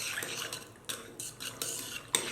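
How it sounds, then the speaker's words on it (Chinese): A spoon stirs oyster sauce and cold boiled water in a large bowl, giving quick scraping, clinking strokes in an irregular rhythm, close and fairly quiet with no talking. "往大碗里面倒入凉白开，搅拌均匀备用"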